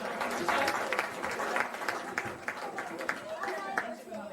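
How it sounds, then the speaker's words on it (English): Wedding guests applauding indoors: a round of scattered clapping from a small crowd, fairly close, with chatter and voices mixed in throughout. "Give Emmy a round of applause."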